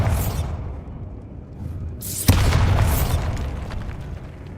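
Bombarda blasting spell in Hogwarts Legacy detonating inside a tomb chamber near a sarcophagus, a single sharp explosive boom followed by a rumbling, crackling tail, loud and alone with no talk.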